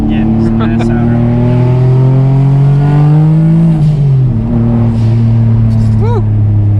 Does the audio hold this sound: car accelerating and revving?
yes